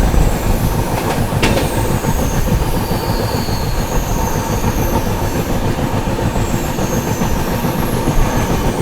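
Indian superfast AC train passing in heavy monsoon rain, a loud continuous rumble of wheels and cars with clattering and squealing rail noise throughout, close by.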